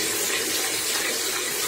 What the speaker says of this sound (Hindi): अब इसके मैंने पानी डाला है थोड़ा सा